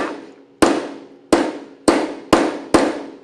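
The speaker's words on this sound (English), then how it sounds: "I'm going to take the hammer" A hammer strikes a metal letter stamp against a blank for a stamped necklace, five sharp ringing metallic taps about two-thirds of a second apart, each decaying before the next, close and loud with no talking.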